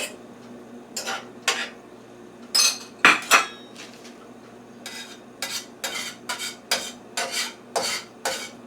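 A spatula scraping and tapping in a pan while shaping an egg for a breakfast bacon, egg and cheese pizza, with a dozen or so short metallic scrapes and clinks in an irregular rhythm close up over a faint background hum.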